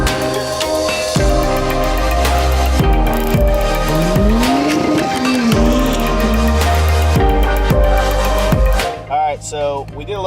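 A Ford XR6 ute does a one-wheel burnout, its engine roaring loud and steady while the tire squeals in long rising and falling wails for about nine seconds before cutting off.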